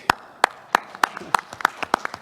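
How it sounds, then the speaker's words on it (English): A small number of hands clapping in slow, separate beats during an online conference session, a sparse, uneven round of claps with a faint hum behind. "So for that, you get an applause, I think."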